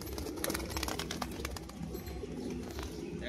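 Black Rajshahi pigeons in breeding mood coo softly and steadily against a busy, noisy background, with faint flutters and scuffs mixed in and no voices.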